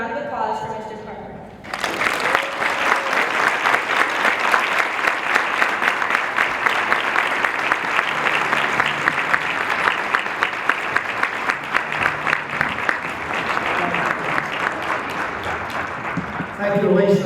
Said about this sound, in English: Now everyone join me for a round of applause for Mr. Tarver.